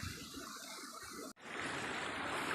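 Creek water rushing hard over big rocks at Star Creek, a steady broadband wash that cuts out briefly near the middle and resumes louder and closer, with no voices.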